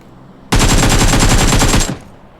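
Sustained automatic gunfire from a mobile battle-royale shooter, a rapid evenly spaced burst of loud shots running for about a second and a half before cutting off abruptly.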